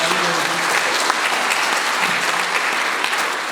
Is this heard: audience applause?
yes